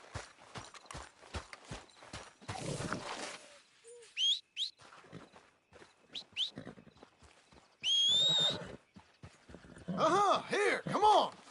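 A horse in the Red Dead Redemption game answers a rider's whistles and calls, hooves clip-clopping in a loose rhythm as it draws closer, with sharp whistle bursts and a shouting voice over outdoor ambience and birdsong.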